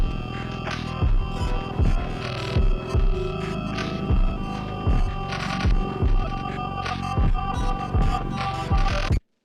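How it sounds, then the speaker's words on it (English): Resampled kick drum pattern in an electronic music track, heavy thumping kicks repeating in a steady rhythm under sustained tonal layers and a brief mid-range vocal-like tone, loud and close with no talking. "and then like just playing the kick again."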